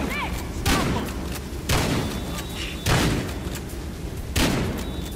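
Gunfire in the video game Battlefield Hardline, four heavy booming shots spaced about a second apart, loud and punchy, with faint in-game tones between them.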